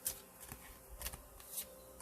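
A deck of tarot cards is shuffled by hand, quiet riffling and slapping sounds in a few soft bursts, close but faint.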